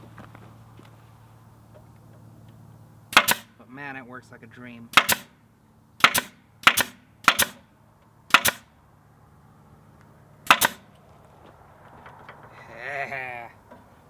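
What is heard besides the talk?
brad nailer firing brad nails into wood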